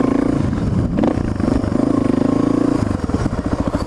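A 2016 Honda Africa Twin motorcycle pulls away with a loud, close engine note, rising through throttle and gear changes, with a throbbing low pulse and some rattling clatter, and no talking.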